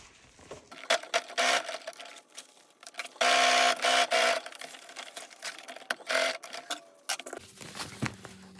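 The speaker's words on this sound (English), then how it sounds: "I sew the zipper to the top, attaching it in one go to both the lining and the main fabric." A sewing machine stitches a zipper through the lining and main fabric of a handmade bag, running in short close bursts of rapid mechanical chatter separated by brief pauses.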